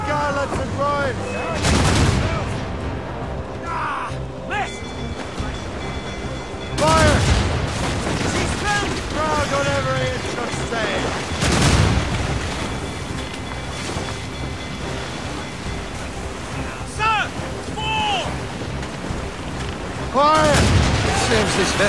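Ship cannons fire broadsides in the naval video game Assassin's Creed Rogue, several heavy booming volleys spaced seconds apart over rolling sea and wind, with shouted commands and voices between the blasts.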